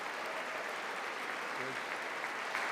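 Congressional audience applause during a State of the Union address, a steady wash of distant clapping filling the chamber throughout.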